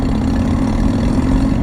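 An Aprilia Mana 850 motorcycle engine runs with a steady low rumble and hum, close and fairly loud, holding an even tone with no talking.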